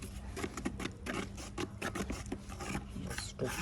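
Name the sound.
stirring and mixing epoxy flooring compound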